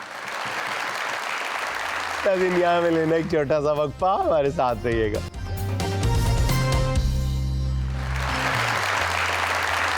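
Studio audience applause for a game winner on a talk show: a dense burst of clapping opens and closes the stretch, with a voice speaking in between.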